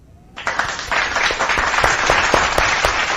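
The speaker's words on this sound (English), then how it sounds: "let's give a shout of applause for everyone in the chat" Sudden burst of applause from a small group, steady clapping that swells and holds, with a few distinct sharp claps standing out.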